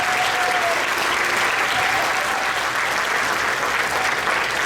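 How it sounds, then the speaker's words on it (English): A school audience applauds the sixth grade band's saxophone section, a dense, steady wash of clapping from many hands that holds at an even level throughout, with faint murmurs mixed in. "Give a big round of applause for the saxophone."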